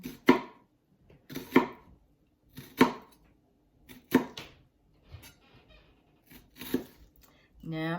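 A knife chopping an onion for squash and red lentil curry, several sharp separate cuts with gaps between them, and a voice talks briefly near the end.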